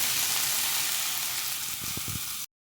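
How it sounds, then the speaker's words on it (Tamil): Onions sauté in oil with ginger-garlic paste, a loud, bright continuous sizzle near the pan, with a few low scraping stirs near the end before it cuts off abruptly. "வெங்காயத்தை போட்டு நல்லா வதக்கிட்டுருக்கோம்"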